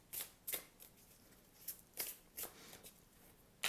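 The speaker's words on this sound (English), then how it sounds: "I'm just going to put down these emotion cards on top for each month" Emotion cards are laid down one at a time for a tarot-style monthly spread, giving soft, close papery slaps and swishes at an uneven pace, about eight in all, faint and without talk.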